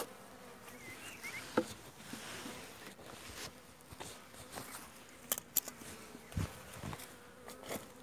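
A steady honeybee buzz hums throughout at low level at an open hive during varroa treatment, with scattered clicks and brief knocks of frames and divider boards over it, close by and continuous.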